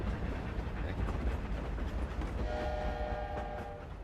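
A train rolls past in a Harry Potter video game, a loud rumbling clatter with a sustained horn blowing over it near the end.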